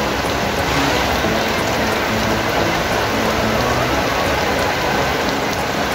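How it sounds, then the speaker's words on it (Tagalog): Steady rain falls hard and close in Baguio, a dense continuous hiss and patter on surfaces with no breaks or voices. "yan na naman ang ulan ay titigil na"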